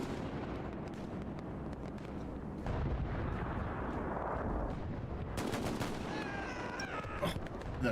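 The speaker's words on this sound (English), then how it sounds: "Oh, the shotgun." Shotgun blasts in the multiplayer shooter Hell Let Loose, a few loud booming shots mixed with other battlefield gunfire and explosions in continuous heavy combat noise.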